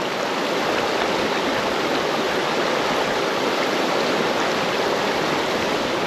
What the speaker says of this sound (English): it's splashing like a catfish.